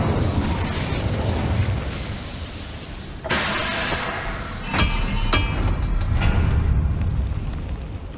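Fire spell blasts in Hogwarts Legacy, a loud whooshing burst erupting midway over steady game ambience, followed by a few sharp cracking pops.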